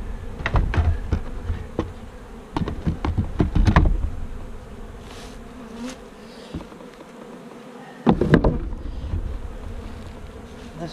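Honey bees buzz steadily around a hive in a beekeeping yard, a continuous insect drone with louder bursts and clunks of hive equipment being handled nearby.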